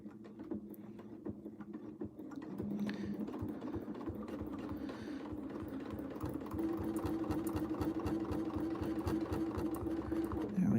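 A sewing machine stitches steadily in rapid, even bursts during free-motion quilting, close and clear, with the needle rhythm speeding up in the second half and only faint background otherwise.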